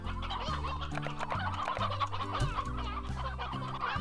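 Roosters cluck in the farming video game Slime Rancher, a busy overlapping chatter of clucks over a steady looping background music track, with no talk.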